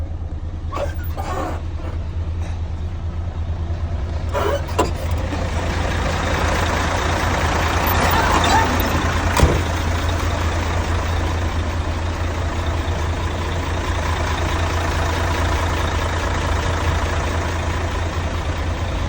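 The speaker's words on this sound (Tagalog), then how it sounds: "Now guys, ito yung ating truck guys, ano." A heavy truck idles at a loading site in an industrial city in Dammam, its deep, steady engine rumble running unbroken throughout with a few sharp clicks and knocks early on.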